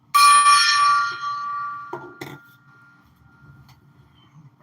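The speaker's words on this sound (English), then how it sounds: "Let's get a hit from the gong." A gong is struck once, giving a bright metallic ring that decays over a couple of seconds, followed by a few faint knocks and quiet handling noise.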